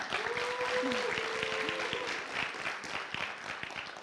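Applause at a startup pitch expo event, a steady round of clapping from the audience heard under a speaker's voice, moderately distant and even throughout.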